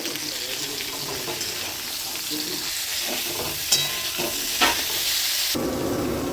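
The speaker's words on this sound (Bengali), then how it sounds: "পটলগুলো বেশ লাল করে ভেজে নেব পটলগুলো ভাজতে ভাজতে অল্প লবণ দিয়ে দেবো" Pointed gourd (potol) pieces fry in oil in a wok with a little salt, a continuous sizzle broken by stirring scrapes and a couple of sharp clinks before the hiss brightens near the end.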